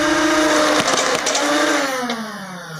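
Three Nerf blaster flywheels spin up together in a modified Juggernaut rapid-strike build, a high whirring whine with buzzing harmonics that holds loudly, then winds down in pitch as they slow.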